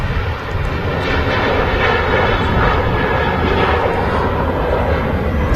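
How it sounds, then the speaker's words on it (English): A KLM jet airliner departs Manchester Airport for Amsterdam on a windy day, its engines producing a loud, steady, broadband roar that holds throughout with no voices over it. "KLM departing to Amsterdam."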